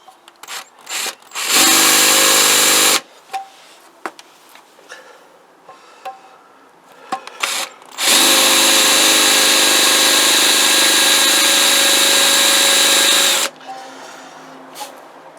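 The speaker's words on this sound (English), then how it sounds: "Let's just try and go straight into the drill bit" Two loud bursts of a power drill grinding hard into the metal of a Kawasaki GPZ500S engine head or barrel, one short and one long, separated by clanks, handling noises and quiet gaps.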